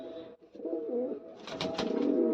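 A pigeon coos softly nearby in low rolling notes, followed by a few rustly bursts of movement.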